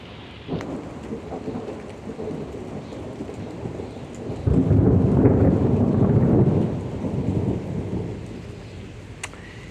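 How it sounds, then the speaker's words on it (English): A Friday afternoon thunderstorm in Pittsburg, Kansas: steady rain patters on surfaces throughout while a deep thunder rumble swells in the middle and fades, loud and enveloping, with no talking. "So we do have a storm."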